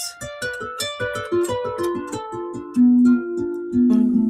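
A few piano-like notes played in succession, then a sustained chord built around a tritone rings out twice, clear and close with no voices.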